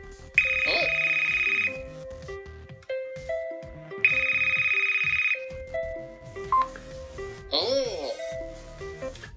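A modern phone ringtone from the Pogg app on a tablet plays in two clear bursts of bright repeating electronic tones, with a person talking in between and afterward.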